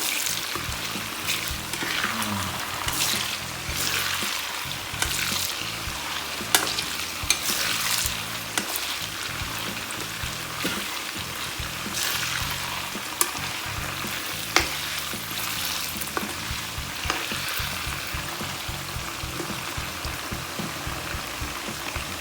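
Squid frying with garlic in hot oil, a steady crackling sizzle with occasional sharp pops and stirring clatter, close and continuous with no talking.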